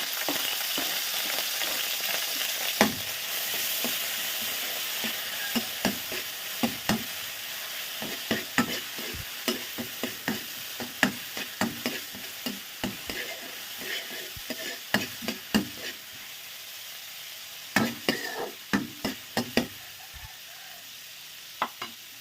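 Onion and garlic with star anise sautéing in a pan: a steady close sizzle under repeated scraping stirs and clinks of a utensil, with no talking.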